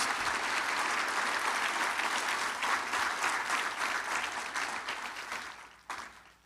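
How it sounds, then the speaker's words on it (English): Sustained applause from an audience at a city State of the City address, dense and steady clapping that carries on for several seconds before tapering off near the end. "Let's give him a round of applause for his leadership."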